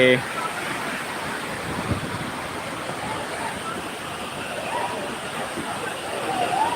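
A small waterfall rushes in a steady, broadband wash of falling water that stays even and fairly close throughout, with no voices over it.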